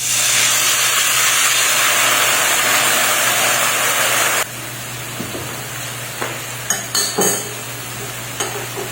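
Soy sauce mixture sizzles in a pan with sautéed small onions and ground meat, a loud steady frying hiss that drops suddenly halfway, followed by a few light utensil clinks.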